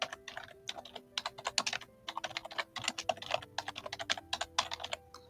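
Fast typing on a computer keyboard, close and crisp, with bursts of rapid key clicks broken by short pauses under a faint steady hum.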